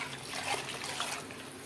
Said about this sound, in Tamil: கொஞ்சம் கிரேவி கொதிச்சு வரதுக்காக தண்ணி ஆட் பண்ணிக்கலாம்